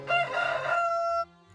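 A rooster crows once, a loud, close, drawn-out cock-a-doodle-doo lasting over a second, clear and alone, then breaking off into quiet.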